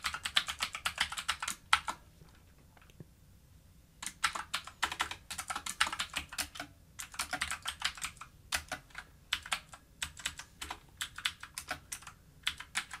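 Computer keyboard typing of code, bursts of rapid close keystrokes with a short pause near the start, no talking.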